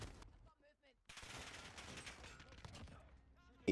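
Bursts of automatic gunfire in a first-person shooter game, a short burst then a longer sustained stretch of rapid shots at moderate volume, with brief game sounds in the gaps.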